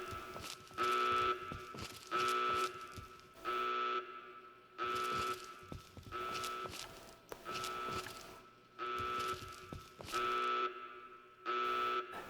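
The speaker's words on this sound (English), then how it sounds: "You can hear the alarms going off as there's a red alert for my apprehension." An alarm in Fallout 3 blares a red alert in regular, evenly spaced bursts of a harsh buzzing tone, about six to seven blasts, loud and steady with short gaps between them.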